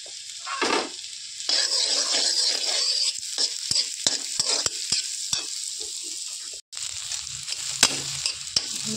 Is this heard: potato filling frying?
yes